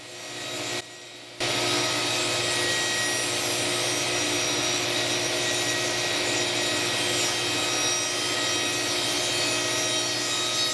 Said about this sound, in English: After I finished painting, I cleaned up one edge on the table saw.